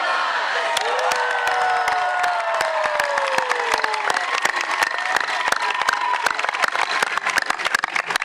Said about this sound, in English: And cheer afterwards this time, okay? Big cheer.